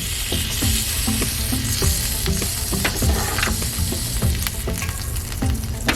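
Burgers and onions sizzling on a George Foreman electric grill outdoors, a steady close crackle of frying fat with small pops throughout and no talking.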